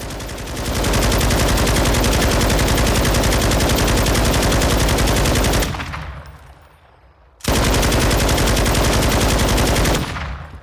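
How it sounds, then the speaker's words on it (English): An IWI Negev NG-7 machine gun in Call of Duty Modern Warfare II fires two long, loud, sustained automatic bursts with a rapid, even rhythm, separated by a short pause with a fading tail. "This is the NG-7, just straight vertical recoil here for the most part."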